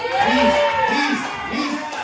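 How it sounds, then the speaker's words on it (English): A live audience cheers on a count of three as contestants start a food-eating contest, loud mixed crowd shouting and children's voices rising in repeated swells throughout. "Let's cheer them on here on the count of 3."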